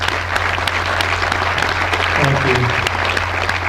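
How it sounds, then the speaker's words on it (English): An audience at a Boulder City, Nevada State of the City event applauds steadily for two honored guests, a dense wash of clapping with a brief spoken thank-you rising through it. "would you guys please stand so we can give you a round of applause?"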